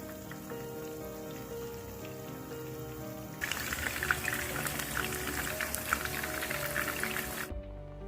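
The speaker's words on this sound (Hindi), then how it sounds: "इसलिए हम इसको डीप फ्राई करेंगे मीडियम फ्लेम पे।" Prawns drop into hot oil on a medium flame and break into a loud, dense crackling sizzle that carries on steadily for several seconds, after a quieter stretch at the start, then cuts off abruptly.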